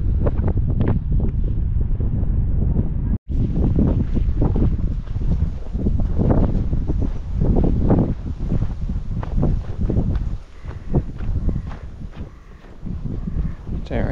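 Strong wind blowing outdoors on Tresco in the Isles of Scilly, buffeting the microphone with a loud, continuous rumble and gusts throughout, briefly cutting out once near the start.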